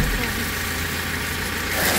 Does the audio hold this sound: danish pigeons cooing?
no